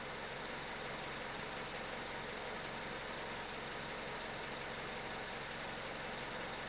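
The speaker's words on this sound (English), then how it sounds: "So right now the car is warmed up and running." A warmed-up car engine idling steadily: a faint, even rumble with a constant low drone and no change in pitch from start to end, heard alone without talk.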